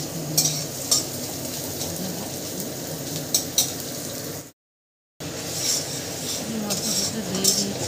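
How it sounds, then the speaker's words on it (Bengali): Spices and onions frying in a pan, with a steady sizzle under repeated clinks and scrapes of a stirring spoon. The sound breaks off briefly and then resumes. "এবারে মশলাটা ভেজে নিলাম"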